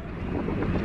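Strong wind buffets the microphone outdoors at a park, a steady, loud roaring rumble that fills the whole clip with no break.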